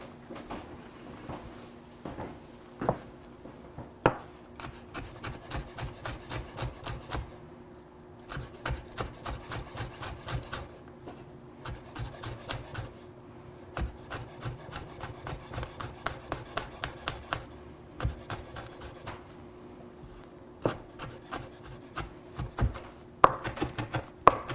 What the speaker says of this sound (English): We're gonna mince our Serrano.